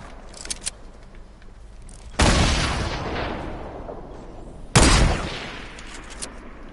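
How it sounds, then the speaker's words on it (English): Gunfire in the video game Fortnite, with two loud shots or bursts a few seconds apart that ring out and decay over a quieter game backdrop with a few faint clicks. "He's shooting at us, he's shooting at us."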